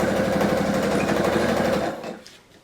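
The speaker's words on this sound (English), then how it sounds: "we just keep sewing" A sewing machine stitching log cabin quilt blocks, a fast steady mechanical whir close up that runs for about two seconds and then winds down to stop.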